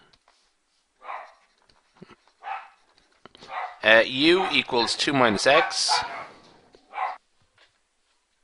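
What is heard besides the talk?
dogs barking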